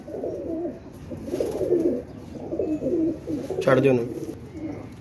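Pigeons coo in soft, repeated rolling calls close by, with a brief voice speaking over them partway through.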